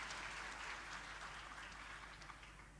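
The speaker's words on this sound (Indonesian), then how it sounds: "Tepuk tangannya gak kompak nih." A church congregation at a youth revival service claps raggedly and out of sync, a faint, dense spatter of hands that tapers off slightly.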